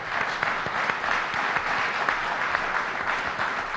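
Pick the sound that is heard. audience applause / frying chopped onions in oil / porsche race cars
audience applause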